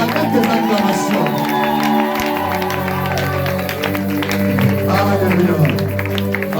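Church congregation at a prophetic ministry service cheering and acclaiming, a dense loud mix of many voices shouting, clapping and stirring together, sustained throughout with a voice standing out over the crowd.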